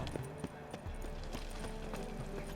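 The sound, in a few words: horse hooves clip-clopping while riding, Witcher 3 video game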